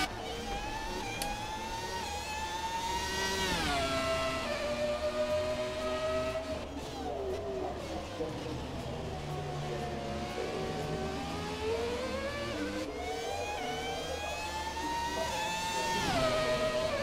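Haas Formula 1 car engine in the F1 2017 racing game, a continuous high whine that climbs and drops with revs and gear changes, steady and moderately loud throughout.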